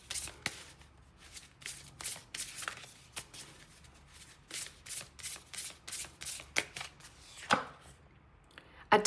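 Oracle cards being shuffled by hand, a run of crisp riffling bursts that repeat in a steady rhythm, close and fairly loud, with a faint voice now and then underneath.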